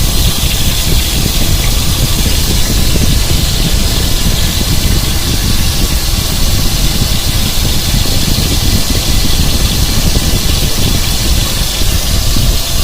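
Tilapia fish sizzles in hot oil in a pan, frying until reddish, with a dense, continuous crackling hiss that stays loud and even throughout.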